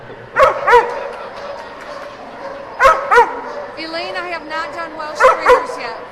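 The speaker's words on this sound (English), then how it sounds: "So Buck is barking at up on the dock right now." A dog at a dock diving competition at the AKC National Championship barks from up on the dock in quick pairs, three times over, loud and close. Softer whimpers fall between the pairs, with crowd noise behind.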